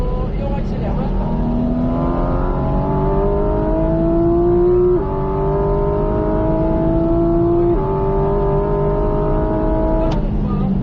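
A Porsche 718 GT4 RS race car engine revs up and accelerates hard on a racing circuit, its pitch climbing steadily through several gear changes, loud and close.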